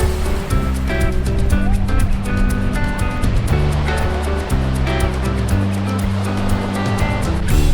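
Ocean surf at Bondi Beach in Australia, a loud continuous wash of breaking waves heard close on the shore, with steady roaring noise throughout and no voices.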